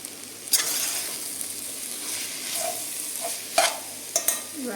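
Paneer biryani masala mixture with turmeric and chicken masala frying in a pan, a soft continuous sizzle broken by a few sharp spatula knocks and scrapes, close and alone without talk.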